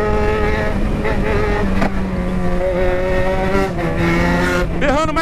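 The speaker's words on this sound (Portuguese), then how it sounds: "Berrando mais que um boi na fome essa moto." A Yamaha XJ6 motorcycle engine roars loudly and continuously up close while riding, its steady high-revving tone shifting pitch through gear changes and rising sharply near the end.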